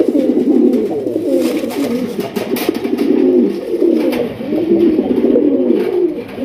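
A Raj Golla pigeon coos close and loud in repeated, rolling phrases with short pauses between them.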